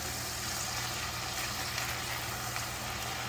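Bacon, butter and onions frying in a pan while being stirred, a soft steady sizzle with a faint hum beneath, quiet and even throughout.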